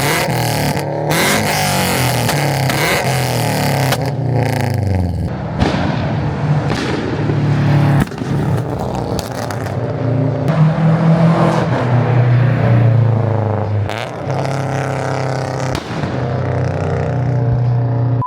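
A car fitted with its old exhaust, ahead of a new JDL front pipe, revs hard in loud bursts, the engine climbing and falling repeatedly with sharp pops and crackles between pulls, close and alone.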